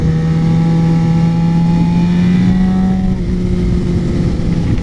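A Suzuki GSX-R600 or Yamaha YZF-R15 sport bike engine running hard, a loud steady high-revving drone with a tone that rises slightly and then dips, heard close while riding.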